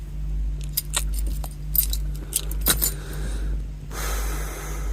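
A set of old door keys jingles and clinks in quick, irregular bursts close by over a steady low hum, and a softer rustle follows near the end.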